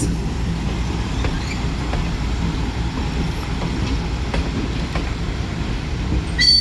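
A children's railway train pulls out of a park station in Lviv, a steady rumble of rolling wheels with faint clicks and squeaks, fairly close, with a brief louder burst at the very end and no talk.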